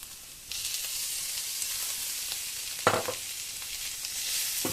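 Chopped green chilli and egg fry in a hot pan with a loud, continuous sizzle. A brief stirring scrape cuts in partway through.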